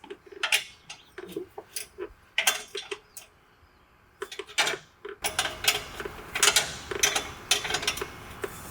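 An exhaust pipe clamp is tightened by hand on a 2005 Dodge 3500 Cummins during a 4-inch straight pipe install, with close, irregular ratcheting clicks and metallic taps in short bursts, then a denser stretch of rapid clicking.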